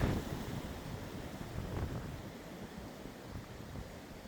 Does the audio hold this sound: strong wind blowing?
yes